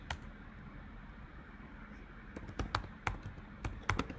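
Someone types on a computer keyboard at close range, a quiet start giving way to bursts of crisp, uneven key clicks over faint background hiss.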